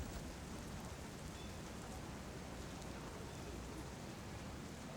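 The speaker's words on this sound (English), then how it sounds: "the first 30 students were greeted with torrential rain which lasted for most of the month" Torrential rain pours down in a steady, dense hiss that holds unchanged throughout, soft and even, with no voices over it.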